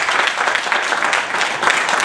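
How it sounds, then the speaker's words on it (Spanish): A strong round of applause at a public political event of Izquierda Unida, dense clapping from an audience, loud and steady through the short span. "Un fuerte aplauso."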